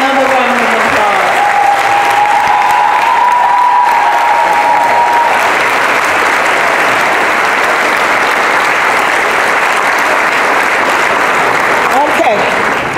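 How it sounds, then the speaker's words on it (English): Audience at a press conference for Bennett College claps loudly and continuously, a steady wash of applause with cheering; a brief tone is heard near the start. "Let's give them another round of applause."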